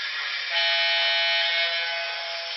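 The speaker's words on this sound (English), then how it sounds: "there's actually an air horn on the front of it" The air horn of a Broadway Limited Paragon 4 Southern Pacific GS-4 model steam locomotive blares as one continuous, loud, brassy chord for over two seconds, with no voices.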